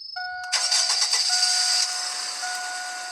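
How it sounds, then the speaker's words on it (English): A car in the Roblox game Greenville starting up: a short synthetic cranking burst that catches into a steady, fairly loud engine idle, over a constant electronic tone, with no one talking. "you first start up your car with either the button right here"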